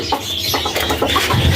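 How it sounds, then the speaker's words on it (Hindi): Six breeder hens kept as pet birds cluck softly and intermittently, close by, over a steady background murmur with no talking. "यहाँ पे मेरी वो जो 6 मुर्गियाँ हैं बीडर,"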